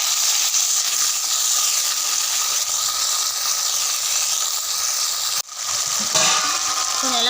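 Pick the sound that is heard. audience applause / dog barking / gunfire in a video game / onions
onions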